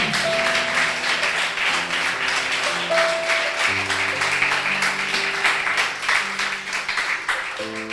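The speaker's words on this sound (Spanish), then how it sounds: "¿Cuántos le dan un aplauso a nuestro Rey?" A church congregation claps for their King during a Spanish-language sermon, a steady wash of applause running throughout while held musical tones sound underneath.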